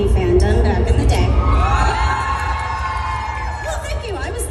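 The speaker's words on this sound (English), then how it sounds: "I was not expecting a cheer" A convention panel audience cheers with whoops and shouts, loud and enthusiastic at first and then tapering off, with voices rising and falling through the crowd noise.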